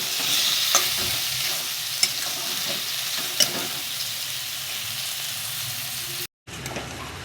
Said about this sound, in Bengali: যতক্ষণ না মাংসর গন্ধ বের হয় বা তেল ছাড়ে ততক্ষণ আমি কষাবো।